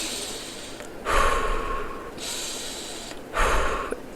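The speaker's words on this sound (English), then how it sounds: "When we start getting too much and we start breathing heavier" Heavy, restricted breathing during a fitness exercise: two loud, rough breaths, each a long noisy rush of air close to the microphone, separated by a quieter pause.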